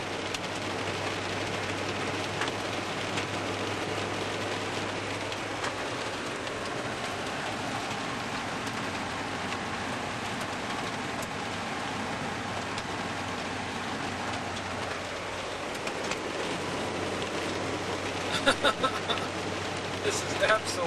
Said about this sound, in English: We got streets, the road covered with hail.